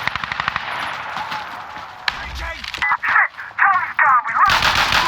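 Bursts of automatic rifle fire in the video game Insurgency Sandstorm, rapid loud rattling volleys in the first two seconds, then scattered shots amid raised voices shouting over the action.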